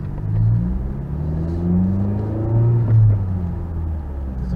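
A Honda Type R car drives with a steady low engine rumble and mild revving swells, heard from inside the cabin, with no talking.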